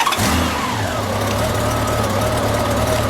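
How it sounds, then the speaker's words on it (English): A motorcycle engine, wired straight to a low battery, starts and runs steadily with a low rumbling drone and a faint rising whine, close and continuous for about three seconds with no talking. "Go ahead and turn on the bike. Go ahead and start it."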